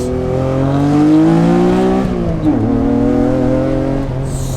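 A Honda NSX engine revs hard while driving, pitch climbing steadily, dipping at a gear change, then rising again, loud and close throughout.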